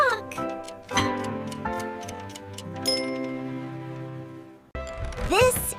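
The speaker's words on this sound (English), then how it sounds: "This is a clock." A clock ticks lightly in a children's cartoon about household objects, with faint regular ticks over bright tonal music, and a brief burst of voice or sound effect near the end.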